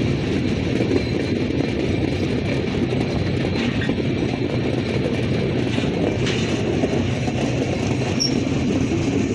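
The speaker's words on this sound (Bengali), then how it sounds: "হচ্ছে পার্বতীপুরের লোকাল ট্রেন, যা আমরা ছেড়ে এলাম" A Parbatipur local train pulls away, a steady, loud broadband rumble of rolling railcars and wheels on track with faint squeals and clatter throughout.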